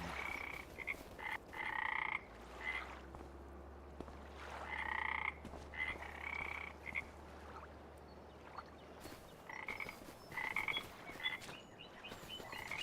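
Frogs croak in a video game's outdoor map near a small island, repeated bursts of croaking calls coming in clusters over a steady low ambient hum, moderately loud and without any talk.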